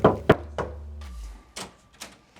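Several firm knocks on a house door, a quick double rap followed by single knocks spaced out over two seconds, close and fairly loud with a low hum beneath.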